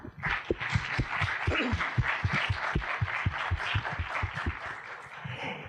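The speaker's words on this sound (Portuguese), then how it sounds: "eu peço para que a gente receba com palmas o senhor Carlos Nejar" An audience at a Brazilian Academy of Letters event welcomes the writer Carlos Nejar with applause, distinct sharp claps in a fairly sparse, uneven rhythm, close and clear, with no talking.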